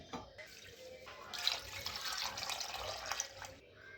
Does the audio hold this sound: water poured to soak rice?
yes